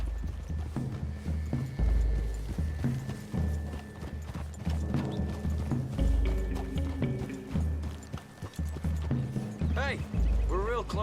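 Hooves clip-clop steadily at a trot in a video game, several horses together passing through trees, with a horse whinnying near the end.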